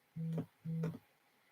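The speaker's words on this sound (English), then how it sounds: "I turned my sound off on my phone, and now it's doing the vibrate thing." A mobile phone set to silent vibrates in two short buzzing pulses, close by and fairly quiet, with no other sound around them.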